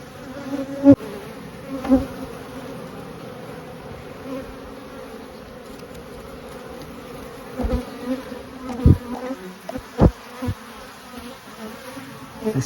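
Honey bees buzz steadily over a hive frame holding emerging brood, pollen and nectar, a close continuous drone broken by a few sharp knocks and handling thumps.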